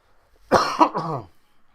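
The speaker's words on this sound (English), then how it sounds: "I've been battling this cough, man." A single harsh cough, close and loud, with a throaty rasp that trails off after about a second.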